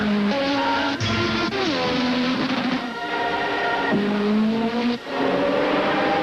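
A car engine in a Super Bowl XXIV commercial revs up and down through gear changes, pitch climbing and dropping repeatedly, loud and close, with squealing tires layered on top.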